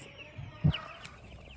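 Meat chickens in a brooder cluck softly, with one louder squawk rising briefly in the middle over a quiet barn background.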